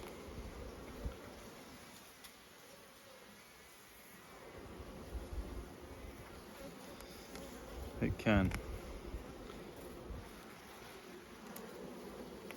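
Steady hum of honey bees around a backyard hive, fairly faint and continuous, with a brief louder close pass near the middle and a person talking intermittently over it.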